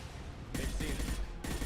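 Gunfire in the video game Mass Effect, two abrupt loud bursts of shots separated by a short pause, close and harsh over a low background rumble.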